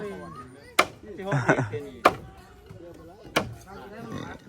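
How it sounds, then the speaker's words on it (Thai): Bamboo stakes are pounded into a riverbed while villagers build a bamboo bridge, giving three sharp, loud thuds about 1.3 seconds apart, with people's voices talking and calling between the blows. "ตอกลงอีกพี่น้องตอกลงให้มันจำ"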